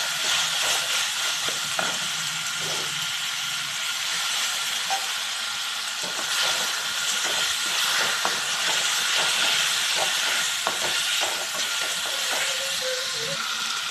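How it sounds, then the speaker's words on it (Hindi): Masala and arvi potatoes fry in a pan, giving a steady loud sizzling hiss close up with scattered scrapes and stirring clicks throughout, and no one talks. "साथ साथ हमारा मसाला भी भून जाएगा और जो हमारे आलू हैं वो भी बन जाएंगे।"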